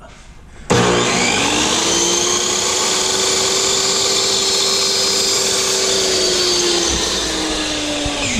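A power saw trims a sliver of wood trim, starting abruptly after a brief quiet moment and running as a loud, steady whine for several seconds, its pitch dipping slightly near the end.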